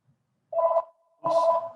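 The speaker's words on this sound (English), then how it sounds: "The phone is ringing." A telephone rings twice indoors, two short electronic trills separated by a brief pause, loud and close, with no talk over them.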